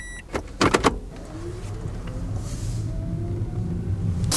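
A Toyota Chaser arrives, preceded by a few sharp knocks and rattles, then its engine rumbles low and steady as it rolls closer, growing slightly louder toward the end.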